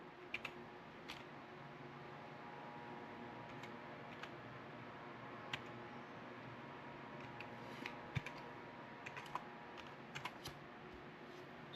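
Faint keys clicking in a sparse, irregular run as a Wi-Fi password is entered on a keyboard, close but quiet over a low background hum.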